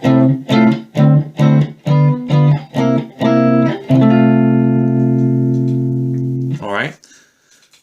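Electric guitar strums a Western swing turnaround chord sequence at speed: eight or so quick, evenly spaced chord stabs, then a last chord left ringing for about three seconds before it is cut off.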